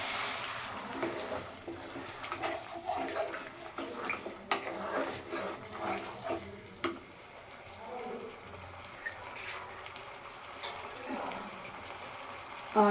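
Water is poured into a pan of fried mustard spice paste for a fish curry, a continuous splashing trickle with brief surges, moderately close, over a faint sizzle.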